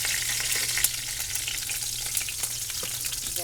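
Chicken pieces fry and brown in a pan for a Southern smothered chicken dish, giving a continuous close sizzle with small crackling pops and no talking.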